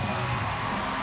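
A large crowd at a CrossFit regional women's event roars in support of an athlete, a brief, dense wash of cheering heard from within the arena.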